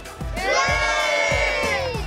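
Loud crowd cheering and shouting at a Volkswagen car show in Beaulieu, a sustained roar of many voices with high whoops throughout.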